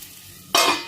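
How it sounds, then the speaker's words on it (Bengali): Spice paste hitting hot frying oil in a pan, a sudden loud sizzle bursting in after a quiet moment, with stirring scrapes, for a plain home-style pumpkin greens dish. "মশলাটা ভালোভাবে কষিয়ে নেব।"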